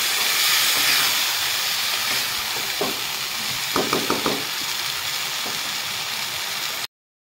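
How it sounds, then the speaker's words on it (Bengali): Ground coriander and cumin sizzling steadily in hot oil for an egg curry, a broad close hiss with a few soft scraping stirs partway through. "1 চামচ ধনে গুঁড়ো, 1 চামচ জিরা গুঁড়ো দিয়ে দিয়েছি। তো মশলার সাথে ভালোভাবে আমি কষিয়ে নেব।"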